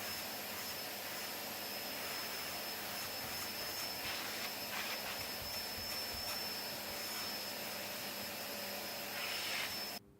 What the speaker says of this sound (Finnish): imuroisin nopeasti puhtaaksi myös tosta ennen kuin laittaa sitä tonne autoon